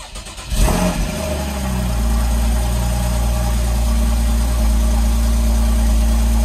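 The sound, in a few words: sports car engine starting and idling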